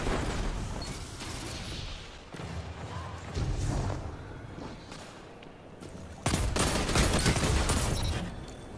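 Rapid video-game gunfire rattles in dense, continuous bursts that fade and then return louder and sustained toward the end, layered over battle noise.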